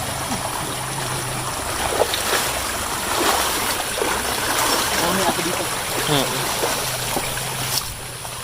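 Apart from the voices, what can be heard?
river water flowing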